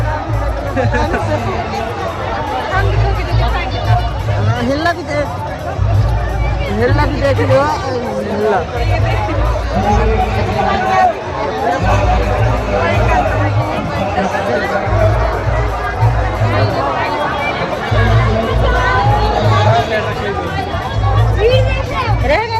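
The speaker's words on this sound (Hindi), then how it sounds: "और हम महाराजपुर संगम घाट में इतना भीड़ है, इतना भीड़ है।" Dense crowd at Maharajpur Sangam ghat, a steady hubbub of many voices chattering close around, with a person speaking over the babble and a low rhythmic thumping running underneath throughout.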